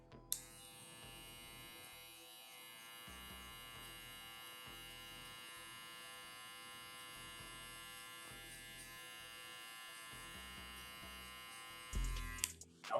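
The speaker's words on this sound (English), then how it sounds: "we'll be going into clipper over comb." Electric hair clippers buzz continuously during a clipper-over-comb haircut, a steady close hum with strong harmonics that shifts slightly in texture and ends with a few clicks and handling noises.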